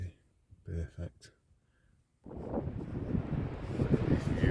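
Strong, steady wind at an empty Scottish beach roars and buffets the microphone after a few brief spoken words, a broad rushing noise that continues to the end.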